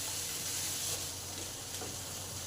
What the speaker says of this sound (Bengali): এবার আলু পেঁপে সব একসঙ্গে মশলার সঙ্গে কিছুটা নেড়ে নিই।